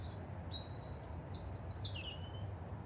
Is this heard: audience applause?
no